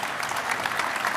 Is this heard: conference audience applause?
yes